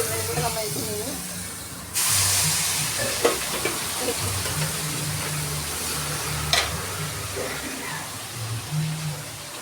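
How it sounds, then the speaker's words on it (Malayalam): Fish sizzles and hisses steadily in hot oil in a home kitchen, a dense close crackle with occasional stirring clinks, running under a speaking voice throughout. "എണ്ണ എണ്ണ മീൻ പൊരിഞ്ഞു കഴിയുമ്പോൾ ഈ ഗ്രേവി ഉണ്ടാകും"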